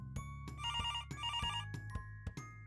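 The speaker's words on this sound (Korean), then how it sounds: "전화벨 소리가 울렸어요." An old-style telephone bell rings in quick trilling bursts, about three rings with short gaps between them, loud and close, with no one talking.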